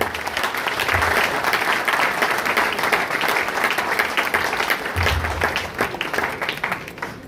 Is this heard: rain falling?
no